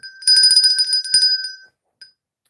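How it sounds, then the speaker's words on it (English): A small bell rings during a stitching livestream, a bright rapid jingle of repeated strikes that fades out, followed by one faint final ding, loud and close with no voices. "This bell is going to be worn out tonight."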